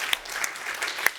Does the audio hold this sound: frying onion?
no